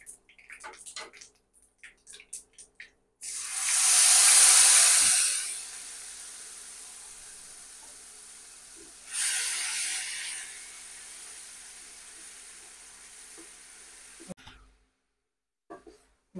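Spices cooking in a pan for a spicy pumpkin curry, with a loud sudden sizzle that fades into a steady hiss, then a second shorter surge of sizzling before the pan goes quiet.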